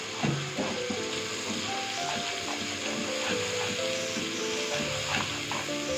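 Masala paste with green chili frying in a pan, a steady close sizzle that runs throughout with faint stirring and scraping, no voices.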